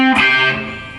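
Distorted electric guitar lick with double stops, a bright sustained chord that rings out and slowly fades over about a second, alone and loud.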